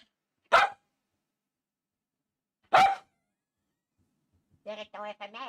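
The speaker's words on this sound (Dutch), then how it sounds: "Je moet niet blaffen" A dog gives two sharp, separate barks about two seconds apart in a quiet room, followed by a short series of whiny, voiced yelps or grumbles.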